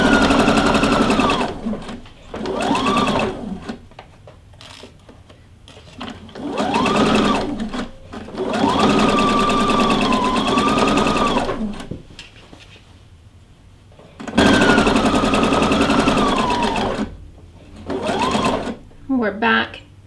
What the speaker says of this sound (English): Now, we've got that seam area coming up. You want to make sure that that stays down in place.